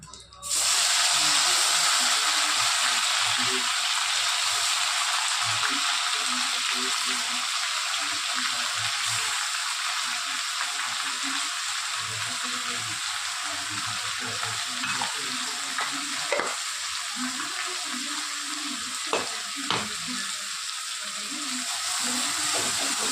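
Masala hits hot oil for a goat mutton rassa curry, bursting into a loud, close sizzle that settles into a steady frying hiss with occasional stirring scrapes and pops.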